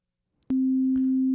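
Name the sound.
synthesizer oscillator tone being generated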